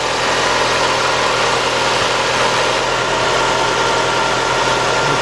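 A 1993 Nissan Altima with an alternator that is not charging idles loudly and close up, a steady mid-pitched engine hum with a slight knock, alone and continuous.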